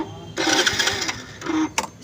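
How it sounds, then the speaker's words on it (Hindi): Self-starter motor on a Hero Splendor Pro motorcycle cranking with an abnormal grinding, whirring noise in two close bursts, near and fairly loud. "इसमें यह प्रॉब्लम है कि सेल मारने पर आवाज़ आता है।"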